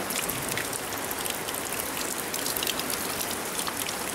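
Heavy rain drumming steadily on a conservatory roof, a dense, constant hiss of droplets at even loudness with no voices.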